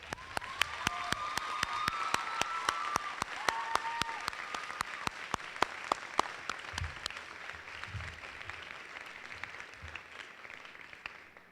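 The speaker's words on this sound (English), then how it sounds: "joins me in a round of applause for their parents and guardians" A graduation audience at the 2011 VUHS ceremony breaks into sustained, dense applause for the parents and guardians. Many hands clap steadily at close-to-mid distance, holding for about eleven seconds before thinning slightly toward the end.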